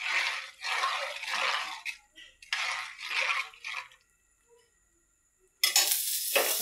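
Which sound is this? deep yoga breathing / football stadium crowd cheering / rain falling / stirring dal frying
stirring dal frying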